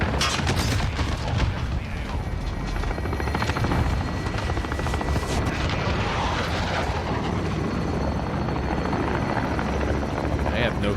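Helicopter in a video game passing very close, a loud continuous rotor roar mixed with gunfire, booms and game voices throughout.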